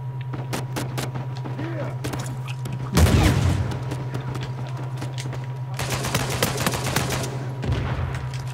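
Rapid gunfire from an Uncharted 4 online multiplayer match: a loud, dense volley near the middle, then a longer sustained burst of shots, all over a steady low hum.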